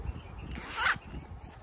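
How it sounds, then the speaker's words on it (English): A waterproof rubberized zipper on a Bastion Gear chest rig is pulled once in a short, close rasping stroke, quiet and alone with no voices. "These are those waterproof, water-resistant zippers, rubberized on the outside, seals."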